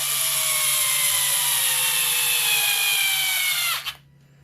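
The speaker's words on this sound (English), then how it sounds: "Those screws have a lot of resistance. Using any kind of driver in these situations saves you a lot of wrist work." A power driver torquing screws on a Milwaukee Orbital Super Sawzall during a service and cord upgrade: a loud, close, steady high-pitched motor whine that runs for nearly four seconds, then cuts off abruptly with a brief clunk.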